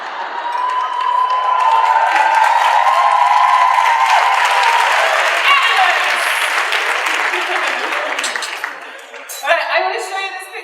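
An audience at a talk bursts into loud, sustained applause and cheering that swells, then slowly fades, with a brief voice and clatter near the end.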